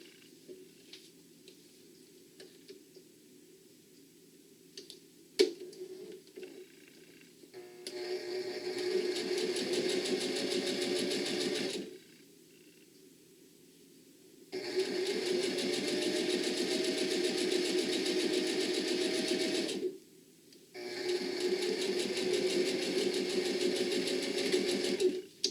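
A sewing machine stitches a quarter inch across black fabric on a bag, running in three sustained bursts of fast, even whirring, separated by quiet pauses with small handling clicks, close and clear with no talking.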